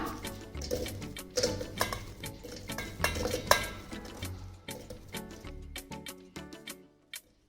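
Cut apple pieces clatter into a blender jar: several light knocks and clinks at irregular intervals, close and fairly quiet.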